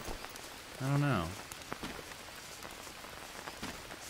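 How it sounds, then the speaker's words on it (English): Steady rain pattering in the Green Hell survival game, a constant close hiss with scattered drop ticks; a short tonal call or sweep rises briefly near the start. "since it's raining, I'm going to use my bidon to proactively fill those with water"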